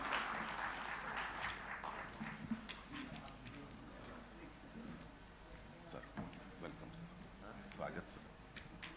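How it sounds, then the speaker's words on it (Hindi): An audience at a Doordarshan conclave on Uttar Pradesh applauds to open the first session, a moderate crowd clapping that starts fuller and slowly thins into scattered claps, heard fairly distant with a voice overlapping. "तालियों के साथ स्वागत कीजिए आज के प्रथम सत्र का।"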